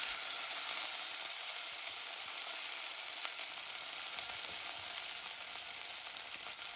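Ginger, chillies and curry leaves sizzle in hot oil in a pan for tomato upma, a steady, soft, continuous frying hiss with no voices.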